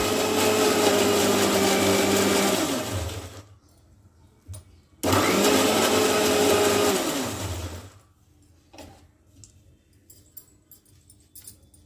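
A kitchen blender churns homemade butter (vennapusa) in two loud bursts of about three and five seconds with a short gap between, the motor pitch dropping as each burst winds down, then faint clatter.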